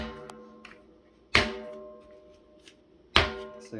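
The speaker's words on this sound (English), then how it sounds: "So I'm pushing it until you hear that click." A part of a Craftsman 5-gallon 4.0 HP wet/dry vacuum snaps into place with two sharp plastic clicks, spaced about two seconds apart, close and clear over a faint low background.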